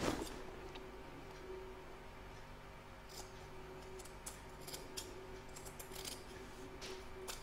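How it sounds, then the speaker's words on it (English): Scissors trimming the edge of an embroidered in-the-hoop placemat, quiet scattered snips and clicks over a low room hum. "I'm just going to trim up the edge."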